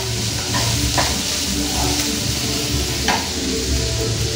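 Chopped onion and green chillies frying in a pan, a steady loud sizzle with occasional stirring scrapes and clinks throughout.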